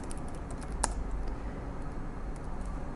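Quick, light keystrokes on a computer keyboard while entering a leave-type name in HR software, a soft continuous patter of close, quiet clicks over low room hum.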